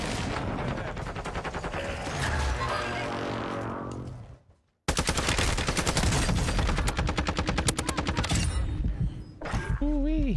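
Rapid automatic gunfire rattles through a video game in loud dense bursts, cutting to a brief silence midway before another sustained volley of shots, with a voice speaking near the end.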